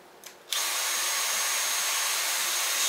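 Dyson V8 Absolute cordless stick vacuum switched to high suction, a steady loud whirring hiss with a faint high whine that starts abruptly after a brief quiet moment and holds constant.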